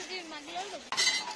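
Metal pots and utensils clink and scrape during outdoor picnic cooking, with a sharper clatter near the end over faint background voices.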